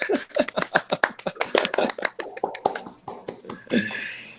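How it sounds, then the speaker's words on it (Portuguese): A small group claps for the speaker at the close of a university mathematics seminar, giving quick, sharp, fairly close hand claps in a steady patter that thins toward the end. "Palmas para o Alexandre"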